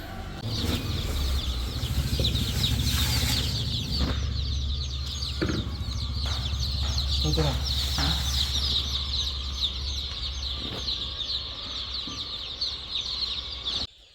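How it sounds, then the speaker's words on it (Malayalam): Chickens and chicks at a poultry shop, a dense continuous chorus of high-pitched chick peeping with occasional louder clucks and rustling nearby, with no talking. "ഗൈസ് അപ്പം നമ്മൾ കോഴിക്കുഞ്ഞ് വാങ്ങാൻ വേണ്ടി വന്നിരിക്കുകയാണ് കേട്ടോ"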